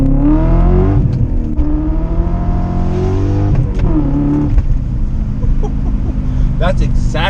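BMW M5 E39 V8 engine revving, a loud deep rumble with rising and falling pitch sweeps across several blips, close and dominant throughout.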